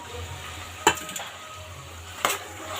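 Carrot, potato, tomato and green chilies for khichdi sizzle softly in a pan, with two sharp clinks of a spoon stirring against the pot.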